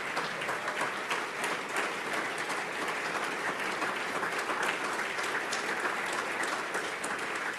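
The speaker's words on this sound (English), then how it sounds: "would you guys give them a round of applause?" A large crowd applauds steadily, a dense, even wash of clapping that holds at the same level throughout.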